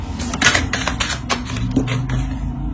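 A tarot card laid down on a tabletop gives a cluster of sharp, close taps and light slaps, several quick contacts in a row followed by softer handling noises.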